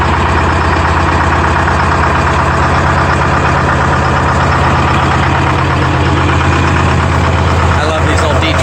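Old Clark 453 skidder with a Detroit Diesel engine idling after a cold start, a loud, steady, rough rumble with a knocking texture filling the whole stretch.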